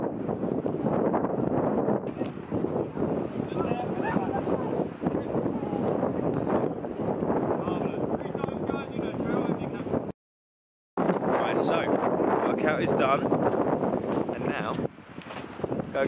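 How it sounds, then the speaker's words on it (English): Strong wind on a beach buffets the microphone in a steady roar, with people talking and laughing underneath; the noise briefly cuts out near the end. "here we are on a very windy beach"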